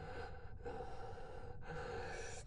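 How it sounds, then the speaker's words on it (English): A character in the Final Fantasy XII video game breathes heavily, two long ragged gasps laid over a steady background of game music and ambience, with no talking. "Heavy breathing, guys."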